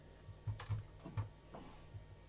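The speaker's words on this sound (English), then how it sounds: "I can hear when you're typing though." A computer keyboard being typed on, a few soft, close keystrokes in an uneven rhythm, faint and alone with no talk.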